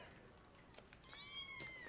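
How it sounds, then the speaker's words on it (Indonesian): A kitten gives a drawn-out, rising then falling meow, close and clear, after a stretch of quieter background noise. "Bob dengan ditemani anak buahnya, Fogan, datang memberikan anak kucing pada setiap gadis di tempat itu sebagai teman bermain."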